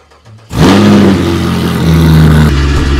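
A Fiat Multipla tuned to 1294 hp bursts into a loud, close engine rev after a brief quiet moment, holding a roaring, droning pitch that shifts slightly as the throttle is worked.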